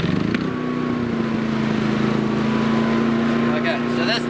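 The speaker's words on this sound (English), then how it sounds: "so that's the Yamaha on idle" Yamaha EF2400iS inverter generator idling with no load, a steady, fairly loud engine hum with a constant tone running throughout, with some background noise.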